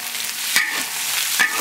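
Ginger and garlic stir-frying in a hot wok, a continuous close sizzle with two sharp scraping strokes of the spatula as the aromatics are tossed.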